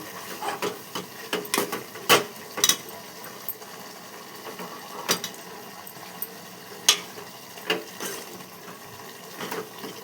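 A pot of eggplant curry (vankaya pulusu) bubbles and sputters on the stove, with scattered soft pops and clinks over a low, steady simmering hiss.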